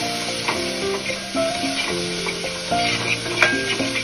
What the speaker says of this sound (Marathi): कोथिंबीर चांगली परतवून घ्या.